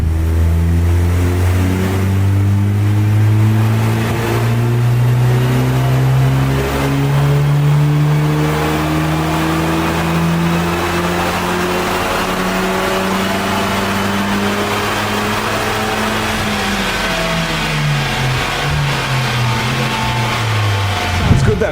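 A stage 1 mapped Mark 7 Golf GTI, tuned to 322 brake horsepower, revs hard with rising and falling engine tones, climbing smoothly through the rev range, then dropping sharply and rising again near the end, loud and close.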